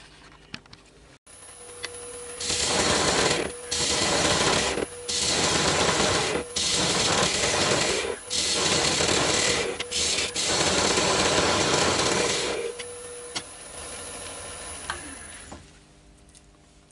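A wood lathe turns a bowl while a tool cuts away the tenon at its base, giving a loud, continuous scraping and rasping that stops and starts in several bursts, with a faint high motor whine throughout.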